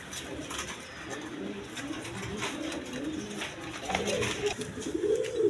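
Giribaz pigeons, a colored Golla pair, coo in low repeated throaty phrases that swell louder toward the end, set against a steady noisy background with some faint talk.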